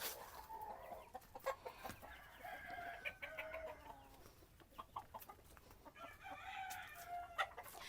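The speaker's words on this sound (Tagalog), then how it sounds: "Medyo may magaganda po ako manok dito banda sa kabila." Several roosters crow one after another amid steady clucking from a flock of nearly 200 tethered breeding chickens on a farm, close by and fairly loud, with no talking.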